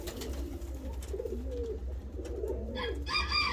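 Several pigeons coo softly in low, rolling murmurs, close by, with a faint background hum and a brief higher chirp near the end.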